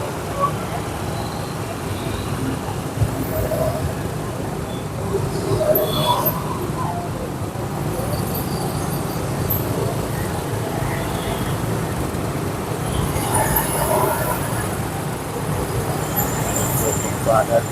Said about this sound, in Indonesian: cukup padat kendaraan